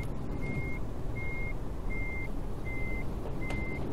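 A truck in Euro Truck Simulator 2 sounds its reversing alarm: five evenly spaced, sharp beeps over a low engine rumble, with no talk.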